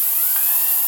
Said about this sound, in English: As expected, so long as we can reach 10 psi, this produces a much stronger jet